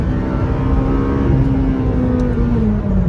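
A McLaren 570GT sports car engine drones loudly from inside the cabin, a steady close mechanical hum with a slowly shifting pitch and road roar throughout.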